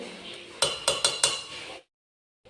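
Ground coconut is added to a pot of bitter gourd curry with a large spoon, giving four quick metallic clanks of the spoon against the pot over a soft background before the sound cuts to silence.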